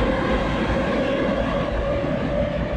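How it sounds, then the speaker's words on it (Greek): An Athens metro train runs into Syngrou-Fix station, giving a continuous, loud, close rumble with a steady whine over the top and no voices. "Θα ανεβούμε στο επόμενο μετρό που θα έρθει"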